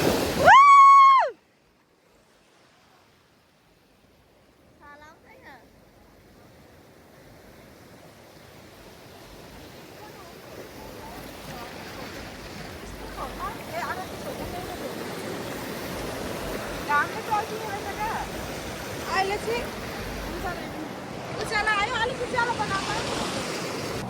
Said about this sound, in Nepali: छाल